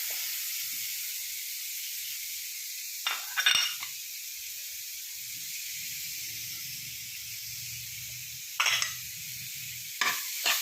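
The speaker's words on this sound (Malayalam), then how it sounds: "എന്നിട്ട് അതൊന്ന് ഇച്ചിരി നെയ്ക്കകത്ത് വഴറ്റിയെടുക്കുക എന്നിട്ട് ഏത്തപ്പഴവും അങ്ങനെ തന്നെ വഴറ്റിയെടുക്കാം" Apple and banana pieces sautéing in ghee in a pan, a steady soft sizzle with stirring scrapes and a few louder clanks of a utensil against the pan.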